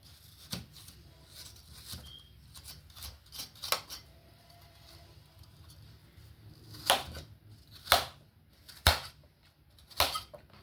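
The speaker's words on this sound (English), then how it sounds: "And I'm gonna continue to cut this apple." A knife cutting through an apple while juicing, heard as scattered sharp close clicks and snaps of the blade hitting the board, growing louder and more spaced toward the end over a quiet room.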